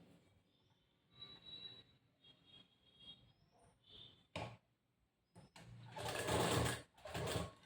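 A sewing machine stitches lace onto the edge of a blouse in a few short bursts of rapid, loud whirring, separated by quiet pauses filled with faint handling sounds.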